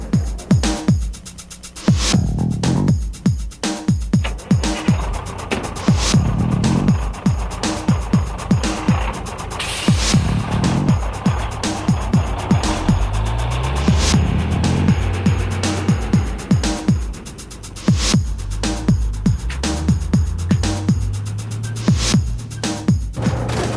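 A Dollar Rent-A-Car shuttle bus at Orlando airport in 1994 drives along with a loud, throbbing engine drone and rumbling road noise, punctuated by frequent sharp clicks and rattles and a couple of rising gear-change whines.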